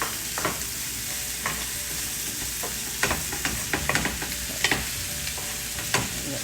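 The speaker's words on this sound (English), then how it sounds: "And then just kind of mix your veggie and meat together over here." SPAM, vegetables and meat stir-fried in a hot pan, a constant loud sizzle broken by scattered scrapes and clacks of a utensil stirring, with no talking.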